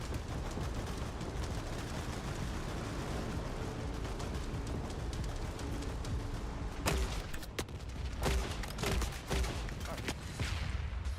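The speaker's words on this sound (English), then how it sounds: "That was a grenade launcher." Grenade launcher fire in the video game The Forever Winter, several sharp blasts in the second half landing over a dense, constant battlefield din of gunfire and rumble, with a voice talking through it.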